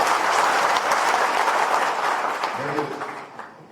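Audience applause at a political speech, a dense, steady wash of clapping that carries throughout and fades toward the end.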